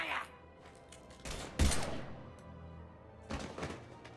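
Gunfire in Mass Effect 3 comes as a few sharp bursts, with one strong shot near the middle and another burst later, over quiet background and faint voices.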